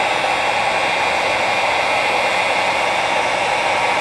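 A heat gun shrinking a heat-shrink wire connector during a tow mirror wiring install, a loud, steady blowing hiss close by that runs unbroken and then cuts off abruptly.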